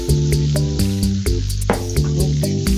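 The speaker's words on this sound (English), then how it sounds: "Toss these around, toasting them in butter." Butter sizzles steadily in a pan as food is tossed and toasted, a soft continuous fry hiss running beneath louder tonal music.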